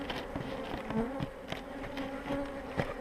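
A steady, dense buzz of many honeybees swarming close by at a hive, a continuous droning hum with small rises and dips and no voices.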